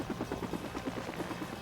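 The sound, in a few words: helicopter in the video game Batman: Vengeance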